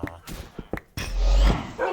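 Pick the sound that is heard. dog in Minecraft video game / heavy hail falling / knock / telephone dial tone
dog in Minecraft video game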